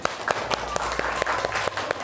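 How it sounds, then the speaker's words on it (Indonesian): Classroom applause for a student group after their presentation, a close, lively burst of many hands clapping in a quick irregular rhythm, with faint voices underneath. "Tepuk tangan untuk kelompok 1."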